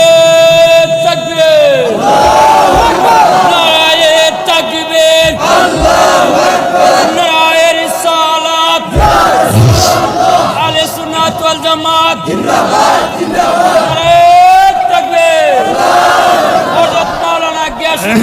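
A large crowd at an outdoor Islamic sermon gathering by a preacher shouts a slogan back to him in loud, repeated waves of massed voices, with the preacher's amplified voice leading between the chants.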